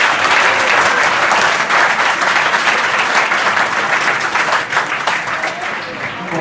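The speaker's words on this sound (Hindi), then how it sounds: "तो आपके इस भाई के लिए या दोस्त के लिए जोरदार ताली बजाओगे?" Loud, sustained applause from a crowd of school students, a dense clatter of many hands clapping that holds steady for several seconds before easing slightly at the end.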